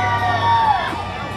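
A crowd cheers and screams at a burnout contest at a Mopar car show, a loud short roar of voices and whoops with a bright whistle-like cry rising over it.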